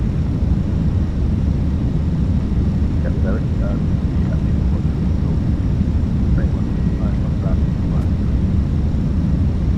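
Airbus A321 jet engines in a flight simulator, a steady loud roar with heavy low rumble holding through the whole stretch, with faint tonal beeps and clicks over it.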